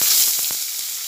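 Tomatoes hit hot oil in a pan for a jackfruit-seed dal, setting off a loud, bright sizzle that hisses steadily at close range, with a few soft pops through its brief length.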